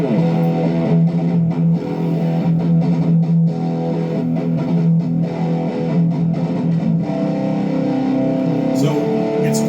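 An electric guitar amp miked with an SM57 right at the edge of the speaker cone plays distorted chords and single notes, loud and steady throughout with a somewhat dull tone.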